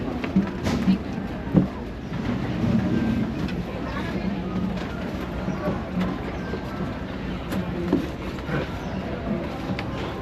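The Disneyland Railroad train rolls along its track with a continuous low rumble and rattle, heard from aboard. Wind buffets the microphone, and a brief thump stands out early on.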